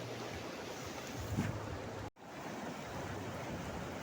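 Steady broadband rush of the Bhairabkunda river flowing, heard from the bank, close and continuous, with a brief dropout midway; no voices.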